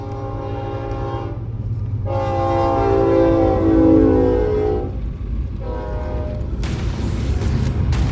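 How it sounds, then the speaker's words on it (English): A train rumbles past in the video game Halo CE, sounding two long, loud horn blasts over a constant low rolling drone, followed by a hissing burst near the end. "Oh, incoming train, my bad."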